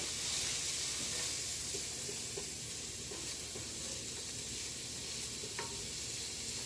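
Onions sauté in a pan for a chicken sauté with garlic and basil, sending up a loud, even, continuous sizzle with faint occasional pops and no talking.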